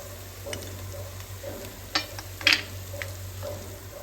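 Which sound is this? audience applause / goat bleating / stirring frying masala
stirring frying masala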